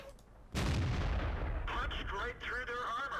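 A tank gun firing in World of Tanks, one sudden loud booming shot that rolls off into a decaying rumble, followed by clanking and game effects.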